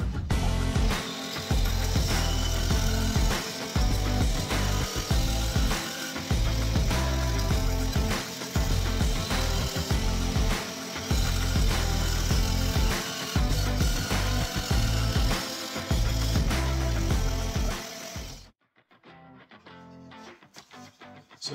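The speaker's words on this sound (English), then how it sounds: "So my bandsaw is also loud." A bandsaw cutting scrap wood for a bandsaw box runs loud and close for about eighteen seconds, a dense rasping roar with rhythmic dips as the blade works through the piece, then cuts off abruptly to near silence.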